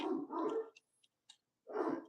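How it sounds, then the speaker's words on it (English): A dog barks downstairs in a few short muffled bursts, spaced apart by silence and a couple of faint clicks, moderately quiet with no talk. "we want to listen to dogs bark downstairs"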